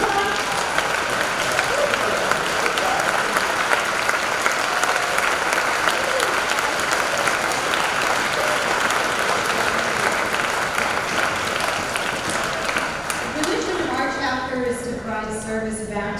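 A school convocation crowd claps for graduating senior National Honor Society members, a long even wash of applause with some voices beneath it and a few tonal sounds rising near the end.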